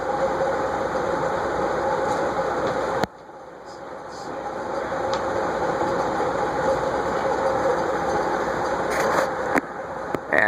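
Polished aluminum Gold Line "Palisade" custom ceiling fan with two motors, running in reverse, gives a steady broadband motor hum. The hum dips briefly near the three-second mark, and low voices come and go behind it.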